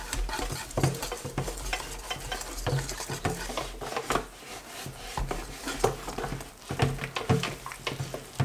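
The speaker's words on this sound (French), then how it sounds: "Et on mélange." Thick cake batter made with Greek yogurt is stirred by hand in a bowl, giving a steady run of soft, close scraping and squelching strokes with faint clinks and no talk.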